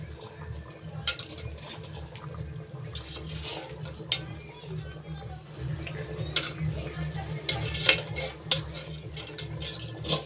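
A spoon stirs chicken kosha, a Bengali chicken curry, in a pot just starting to bubble, with repeated clinks of metal on metal over a low, steady simmer rumble.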